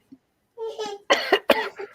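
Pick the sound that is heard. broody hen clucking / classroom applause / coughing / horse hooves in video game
coughing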